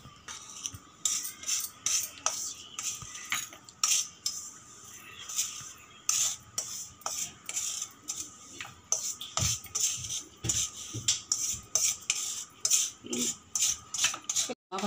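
A metal spoon scrapes roasted semolina out of a pan onto a plate in a quick series of sharp clinks and scratches, fairly quiet and close, with no voices.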